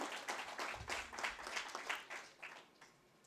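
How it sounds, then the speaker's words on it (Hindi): An audience applauds during an honouring ceremony at an academic technical session: quiet, distant-sounding clapping from a crowd with a loose, pulsing rhythm that gradually tapers off. "तालियों की गड़गड़ाहट में कमी ना हो,"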